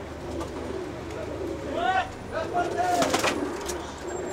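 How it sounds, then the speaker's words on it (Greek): Pigeons coo softly nearby, a few rounded, warbling calls rising and falling against a steady outdoor background hum. "κοιτάξτε και τι όμορφα περιστέρια"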